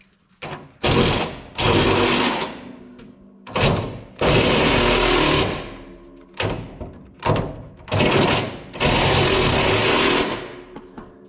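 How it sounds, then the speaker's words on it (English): A power drill whirs in repeated bursts of several seconds each, separated by short pauses, loud and close, drilling for hood pins on a 1966 Mustang. "we're just going to drill"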